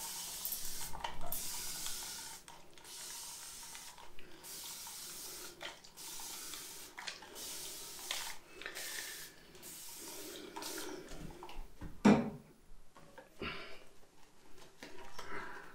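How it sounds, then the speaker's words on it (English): Water runs from a tap in intermittent bursts as a head is wetted for a shave, with splashing and brief pauses, fairly quiet and close, a small knock near the end, no talk. "So let's get some more water on the head."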